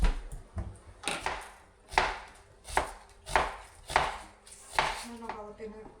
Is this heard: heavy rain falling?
no